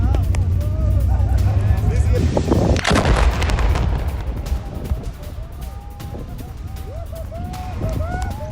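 Missile attack near Al-Shifa hospital in Gaza, a loud booming blast with heavy rumble amid continuous battle noise and scattered distant gunfire, with voices talking throughout.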